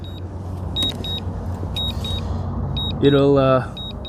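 A drone's return-to-home alert: repeated short high electronic beeps in a steady pattern over a low engine-like hum and wind, with a voice talking briefly near the end.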